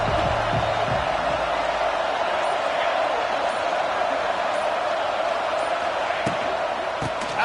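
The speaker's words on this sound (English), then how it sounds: "This crowd ready to make its presence known." A football stadium crowd roars steadily and loudly throughout, a dense wash of cheering with no breaks, with a few sharp claps or thuds near the end.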